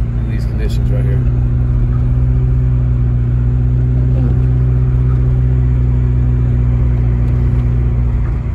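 A car creeps down a steep road near Big Bear, California, in a heavy snowstorm. A steady, low engine drone fills the cabin from start to finish, close and unbroken.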